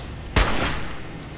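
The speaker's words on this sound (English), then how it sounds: "I hear gunshots" A single sharp gunshot cracks out in the video game Fallout 76, followed by a short decaying echo, loud and close against a quiet background.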